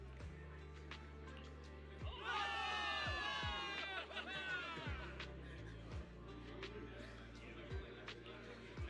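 A video game crowd of soldiers bursts into cheering and shouting for victory over a steady musical backdrop, swelling for a few seconds then settling.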